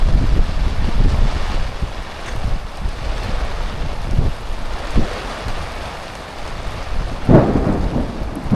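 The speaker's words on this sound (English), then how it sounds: "It kept on raining for the majority of the night" Steady rain falls at night at Tzaneen Dam, a broad constant hiss with gusts of wind buffeting the microphone and a few low thumps of distant thunder rolling under it.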